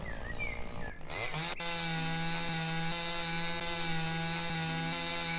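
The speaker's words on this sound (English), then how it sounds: "Alright, let's whip out the chainsaw." A chainsaw in the logging game Lumberjack's Dynasty revs up, then settles into a loud, steady, buzzing drone as it cuts through wood, running without a break.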